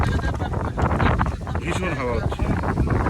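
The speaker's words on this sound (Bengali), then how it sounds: "ভীষণ হাওয়া হচ্ছে" Strong wind buffets the microphone outdoors at a group cooking spot, a continuous loud rushing roar with gusty swells throughout.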